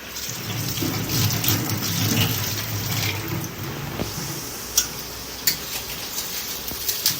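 Running water splashing steadily as boiled jackfruit is rinsed in a home kitchen, a dense wash of sound that fades toward the end, followed by a few sharp clinks.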